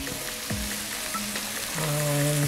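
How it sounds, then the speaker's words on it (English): Cheeseburgers sizzle on a Blackstone griddle: a steady, loud frying hiss throughout, with faint tonal whines and clinks in the background. "this is sizzling, making noises"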